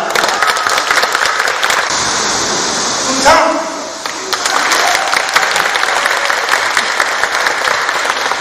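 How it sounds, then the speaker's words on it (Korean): Audience applauding at an outdoor performance venue at Silleuksa in Yeoju during a patriotic peace event, a long, loud wash of clapping that dips briefly midway while a voice calls out, then swells again. "우리 뜨거운 박수로 모시겠습니다."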